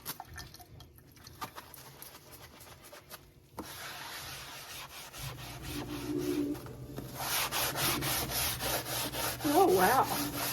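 Close, steady scrubbing of a scuffed kitchen sink with a cleaning pad, a rough rubbing rasp that grows louder and more continuous partway through, with faint squeaks near the end.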